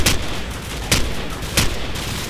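Gunfire in the Call of Duty video game during a Rio favela mission, three sharp shots spaced about a second apart over a steady background din, fairly loud and close.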